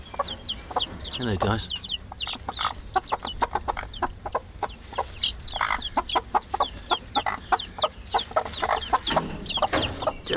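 Australorp Sussex cross chickens cluck steadily and close by in a busy run of short repeated calls, with a rooster-like crow and brief speech mixed in.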